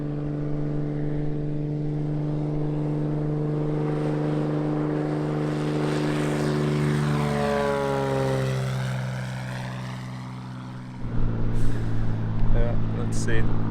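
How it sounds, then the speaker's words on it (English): A propeller plane drones steadily overhead, its pitch sliding downward as it passes and fades, with a gust of wind or movement noise near the end. "Let's hope there is not another plane coming."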